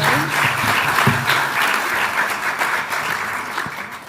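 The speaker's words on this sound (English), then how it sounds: "Give him another round of applause" Sustained applause from an audience at the 2026 Victoria Australian of the Year Awards ceremony, a dense, steady clapping that fills the room for the full four seconds at close range.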